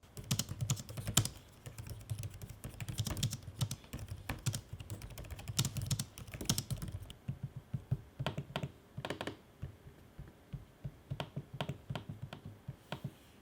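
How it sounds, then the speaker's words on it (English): Rapid typing on an Acer Nitro 5 laptop keyboard with a steady patter of clicks, close and clear, interspersed with a few louder taps of trackpad clicks; no voices. "Here's a sample of the keyboard and trackpad in action on the Acer Nitro 5"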